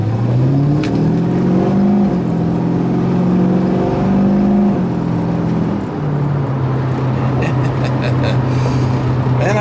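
A 1973 Chevy Nova, LS swapped, with MagnaFlow exhaust accelerating, its engine note climbing in pitch through a steady pull and then settling briefly before building again, heard from inside the car with no talk.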